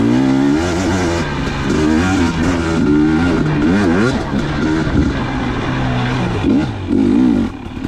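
A 2019 KTM 250xc two-stroke dirt bike rides trail laps at Lilly Prairie, its engine loud and close, revving up and down continuously through throttle changes and shifts, with no pause.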